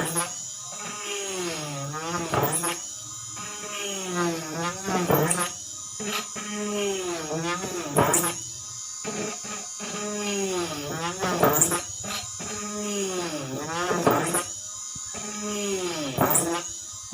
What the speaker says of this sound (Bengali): দেখুন আমি এখানে কিন্তু অনেক মোটা একটি কাঠ ড্রিল করতেছি